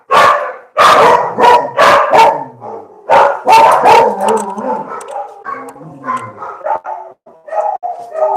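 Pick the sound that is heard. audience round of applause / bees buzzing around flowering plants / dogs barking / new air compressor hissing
dogs barking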